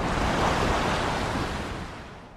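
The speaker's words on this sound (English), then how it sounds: "The red ocean that surrounded the island was loud today, red froth lapping across the black sand." Red ocean surf washing over a black sand beach, a loud, steady broadband rush of waves and froth with wind, slowly easing toward the end, no voices.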